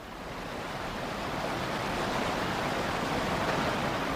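Water rushes steadily through a break in a beaver dam on a mountain pond, a loud, continuous broadband roar that swells slightly and never pauses.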